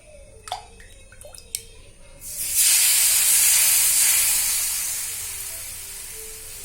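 Rava (semolina) dosa batter poured onto a lightly oiled pan at medium heat bursts into a loud, hissing sizzle that gradually eases off, preceded by a few faint clicks and taps.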